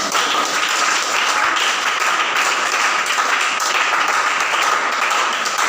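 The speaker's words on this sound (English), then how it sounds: "Please, can we clap for her again?" A classroom of health students at a pharmacy assessment breaks into steady, dense applause for a fellow student, a continuous wash of clapping that holds evenly throughout without voices.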